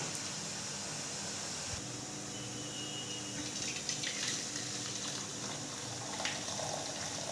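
Melted jaggery water being poured through a strainer while making kozhukattai, a steady close liquid pour and splash running continuously without speech.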